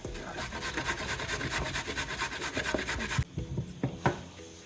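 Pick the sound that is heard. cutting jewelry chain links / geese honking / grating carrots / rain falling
grating carrots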